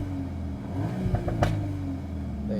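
A VW Golf R Mk8 engine in special mode revs up in a steady, close rumbling drone, with a couple of brief sharper rises near the middle before settling back to a level hum.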